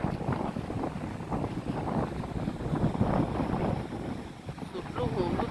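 Strong storm wind blowing across an open freshwater lake during a powerful storm, a continuous heavy roar and buffeting rumble that hardly lets up, with a faint voice briefly audible near the end.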